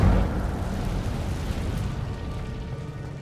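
An Incendio fire spell cast in the Hogwarts Legacy wizard game gives a loud whooshing burst that decays into a sustained crackling, roaring rush, fading slowly, with no talk.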